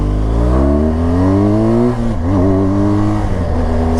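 A BMW motorcycle engine revs loud and close, its pitch climbing steadily, dipping briefly at a gear change, then rising again under hard acceleration with no voices.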